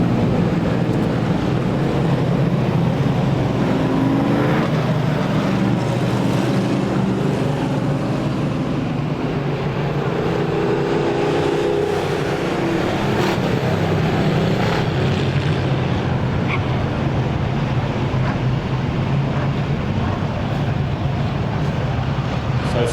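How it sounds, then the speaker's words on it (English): Stock cars roar around an oval speedway in a continuous loud engine drone, the pack's noise rising and falling as they race at a distance without a break. "the 22X and the 2 of Charlie Baldwin, racing hard for that 3rd spot."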